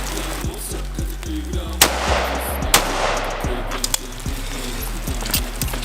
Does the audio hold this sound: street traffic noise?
no